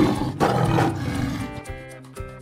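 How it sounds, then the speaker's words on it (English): A lion lets out a loud, deep roar that swells early and then trails off, with musical tones from a nursery alphabet song rising beneath it toward the end. "L for lion."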